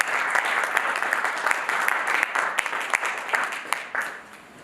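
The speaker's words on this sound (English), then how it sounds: "A round of applause for us." Audience applause at a company annual general meeting: a roomful of people clapping steadily with sharp individual claps standing out, fading toward the end, with faint voices underneath.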